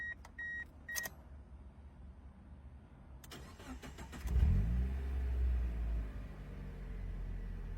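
A couple of electronic chimes, then an NB1 Mazda Miata engine cranks and catches, revving briefly before settling into a steady low idle, heard close.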